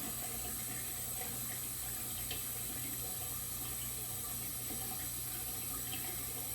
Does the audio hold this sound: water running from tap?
yes